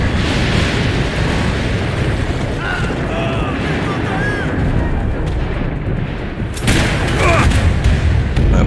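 Gunfire and explosive bursts from the video game Max Payne 3 fill the mix as a dense, loud, continuous rumble, with a sharper blast near the end.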